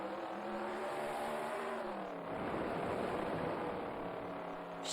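Sprint car engine in the World of Outlaws Sprint Cars 2002 video game on a dry slick track, a steady droning whine that drops in pitch and bogs down midway, then rumbles on roughly at lower power.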